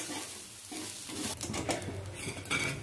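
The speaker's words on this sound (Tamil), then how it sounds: "அதில் வந்து முதல்ல தேங்காயை போட்டு நல்லா ஒரு ஃப்ரை பண்ணுற மாதிரி பண்ணிக்கணும்" Grated coconut frying in ghee in a pan for carrot halwa, a soft sizzle under scraping and clinking of a spoon stirring against metal, with a few sharper utensil taps toward the end.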